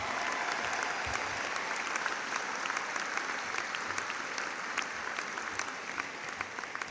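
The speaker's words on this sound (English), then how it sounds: "if you could please give them a round of applause for being my support" A graduation audience at Londonderry High School in 2012 applauds the speaker's parents, sustained dense clapping from a large crowd in a hall, steady and even for several seconds with no talking.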